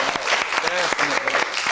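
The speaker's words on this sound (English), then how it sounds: "So I think he deserves a round of applause." A studio audience applauds on a televised newspaper review show, a short burst of close, bright clapping with voices calling out over it.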